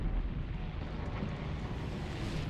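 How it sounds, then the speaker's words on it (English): Artillery barrage explosions in a German-tech-tree war game rumble as a deep, heavy, continuous roar of distant blasts, steady and fairly loud throughout with no voices over it. "Artillery barrage in your sector."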